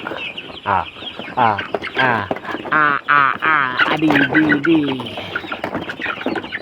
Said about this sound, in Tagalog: Ang among manok. Among alagang manok.